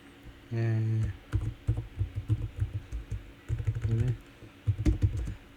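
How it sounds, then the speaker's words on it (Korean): Typing on a computer keyboard, a quick irregular patter of clicks in bursts, heard under a person speaking and a sustained hum. "이거 전체를 타자를 하면 좋긴 좋은데"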